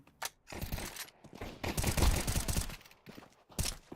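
Pistol shots in a team shooter game, several rapid bursts of gunfire with a sharp isolated shot near the start and another near the end, loud and close with no talk.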